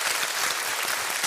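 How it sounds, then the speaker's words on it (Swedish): Studio audience applause on a Swedish TV music quiz show after an orchestra's number, a dense steady wash of many hands clapping, loud and close, with no talking. "Ge dem en varm applåd."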